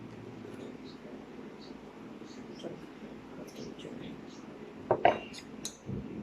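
A spoon stirs salt water in a glass for a floating egg experiment, with soft swirling and a few sharp clinks of metal against glass midway.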